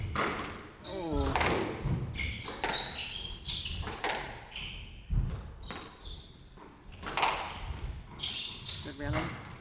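Squash ball rally in a women's professional final: sharp repeated thuds and racquet cracks in an irregular back-and-forth rhythm, echoing in the court, with commentators talking and a crowd murmuring underneath.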